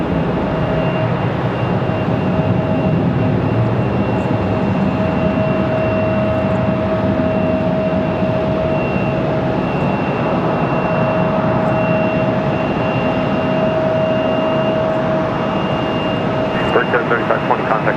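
An American Eagle jet departs Raleigh-Durham International Airport with a loud, sustained engine roar and a steady whine, heard at a distance for the whole stretch while a voice talks over it.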